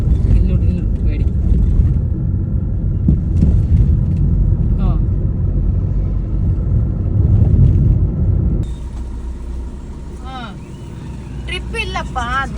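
A car rolling along a road, a steady low engine and tyre rumble that carries on for several seconds before the tone shifts, with people talking over it.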